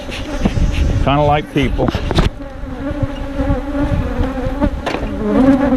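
Bees buzz steadily around an open hive during maintenance, a dense droning swarm close by that runs throughout while someone talks over it.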